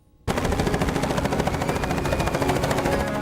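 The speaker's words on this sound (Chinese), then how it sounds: "在纽奥良的天空上出现了直升机空投画面，降下来的可是小朋友最爱的复活节彩蛋" A helicopter over New Orleans, airdropping Easter eggs, starts abruptly with a loud, rapid rotor chop that pulses steadily to the end.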